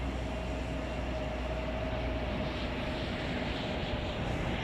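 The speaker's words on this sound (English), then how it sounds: "it's a Boeing 787-8 Dreamliner" A Boeing 787-8 Dreamliner at Chicago O'Hare gives off a steady, continuous jet roar with a faint tonal hum, moderately loud and unbroken, with no voices.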